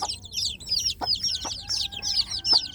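Newly hatched village chicks peep in rapid high chirps, repeating in quick bursts close by, with a few low knocks and a faint steady hum beneath.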